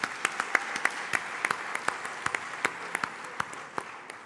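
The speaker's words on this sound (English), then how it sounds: "Please give him a round of applause." Conference audience applause at an Afreximbank event in Ghana, a moderate wash of clapping with a few sharp, close individual claps standing out in an uneven rhythm.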